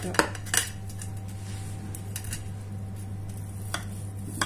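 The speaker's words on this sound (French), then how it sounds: "je vais vous couper une part pour que vous voyez comment il est" A utensil cuts a portion of vermicelli gratin baked in a dish, with a few light metallic clinks against the dish and soft squishy cutting sounds over a steady low hum, close and quiet.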